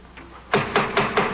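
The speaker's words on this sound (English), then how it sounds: "A knocking at the street door." Knocking at a street door in an old radio drama: four firm, evenly spaced raps after a faint pause, close and dry, with no voices.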